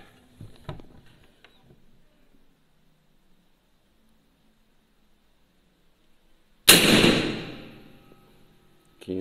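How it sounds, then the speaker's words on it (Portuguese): A low-power shot from a PCP air rifle with a 12-inch smoothbore barrel firing a 9mm pellet gives one sharp, loud close crack with a short decaying tail, after a stretch of quiet and faint handling noises. "Vamos dar um disparo"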